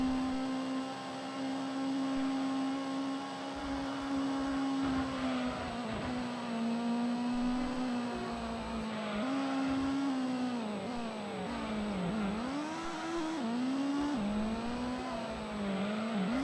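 A car engine in Gran Turismo 1 racing on Route 11 in reverse, a steady high drone that holds pitch, then dips and surges as the car shifts and revs mid-lap, loud and continuous without talk.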